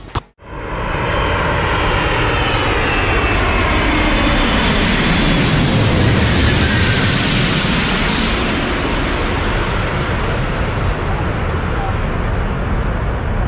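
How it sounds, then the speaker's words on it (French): After a sharp initial hit, a loud, sustained roar of engine and rushing water rises and fades as a seaplane touches down on water and skims along. "je parie que tu n'as jamais vu un bateau volant atterrir aussi en douceur"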